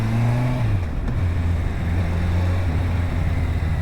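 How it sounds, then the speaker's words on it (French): A car passes close by, heard from a motorcycle ride between Étang-Salé and Saint-Gilles-les-Bains: a steady low engine and road drone with a brief pitch drop as it goes past, under constant wind rush. "comme là il y a une voiture qui vient de passer"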